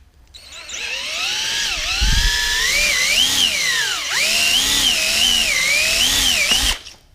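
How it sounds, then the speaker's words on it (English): A power drill bores holes through a metal mounting plate on a mountain bike frame, its motor whining loud and close with pitch dipping and rising under load for most of the stretch before it cuts off. "now we've got the plate drilled out"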